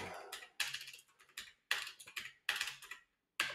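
Brisk typing on a new computer keyboard, with close, crisp key clicks in quick bursts broken by short pauses and no talking.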